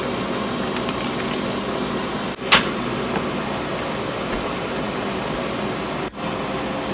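An air fryer running while it cooks hamburgers: a steady, even fan-and-heater whoosh that holds for the whole stretch, with one brief tick partway through.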